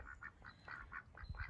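Two domesticated ducks quacking by the Umpqua River, a run of about ten short, clear quacks in quick uneven succession, close by and moderately loud, with low background rumble and no talking.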